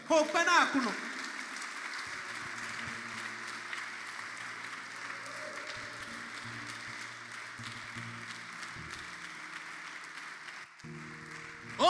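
A church congregation at a religious seminar applauds in a steady, sustained wash of clapping. A voice briefly rises over it at the start, and the applause carries on underneath throughout.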